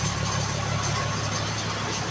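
A Toyota HJ61 Land Cruiser engine idles steadily just after starting following months of sitting, a continuous low rumbling hum with a faint knocking texture, close and alone.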